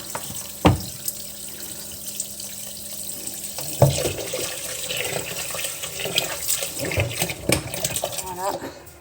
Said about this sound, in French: Donc on vient ajouter de l'eau